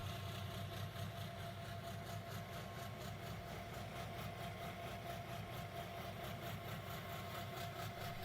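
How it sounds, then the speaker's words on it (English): An 800 series compact V12 fuel-injected power unit runs at a steady, even drone with fine vibration, continuous and unbroken throughout with no voices. "As it runs, the engine exhibits smooth power delivery, rapid throttle response, and controlled vibration, even at elevated speed."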